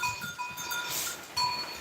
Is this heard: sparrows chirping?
no